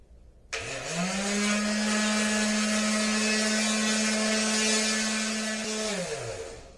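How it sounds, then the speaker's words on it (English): A power sander whirs up sharply and holds a steady, loud tonal drone against the metal fuel tank of a chopper motorcycle build, then begins winding down near the end. "start sanding on the tank for you guys"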